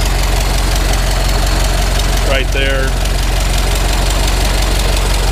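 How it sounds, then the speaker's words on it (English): A small four-cylinder engine from a 1923 Ford Model T Touring idles steadily with a rough, knocking rhythm throughout, while someone speaks briefly near the middle. "So Model T engine, little four cylinder."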